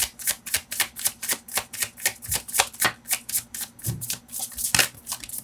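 Tarot cards shuffled by hand in a rapid, even run of crisp riffling flicks, close and clear, with a couple of soft thumps as cards shift.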